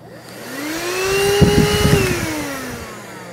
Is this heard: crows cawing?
no